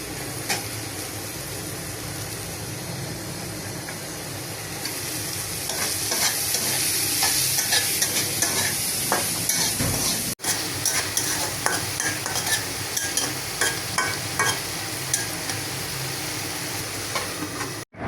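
Potatoes and stems being stir-fried in cooked-down spiced masala, a loud close sizzle with continuous vigorous scraping and stirring that grows busier midway, one brief cut in the sound, no voices.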